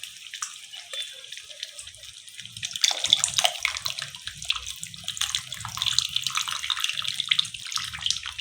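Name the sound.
squeezing tamarind water into inji curry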